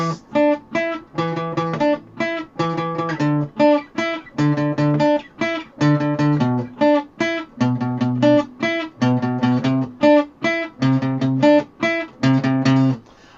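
A guitar plays a riff as simple, clean plucked notes and chords in a steady, repeating rhythm, loud and close, with no voices.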